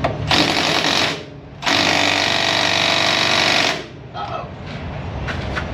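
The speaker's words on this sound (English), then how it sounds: "I got a swivel impact specially made for Fords" Swivel impact wrench made for Ford bolts hammering in two long, loud rattling bursts in a repair shop, with a short pause between them and lower mechanical noise afterward.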